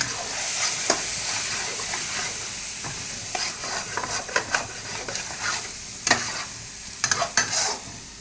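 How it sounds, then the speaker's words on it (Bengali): Quail meat stirred in a wok as it cooks, with a steady close sizzle broken by repeated scraping and clinking strokes of a spatula against the pan, no talking. "এবার নাড়াচাড়া করা হচ্ছে বেশি বেশি নাড়তে হবে নাহলে লাইগা যাবে বুঝছেন কড়াইয়ের ভিতরে লাগছে"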